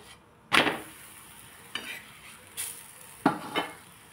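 A paneer roll flatbread roasting in oil on a hot pan, giving a soft steady sizzle broken by a few sharp scraping and clattering turns of the spatula against the pan, close and alone.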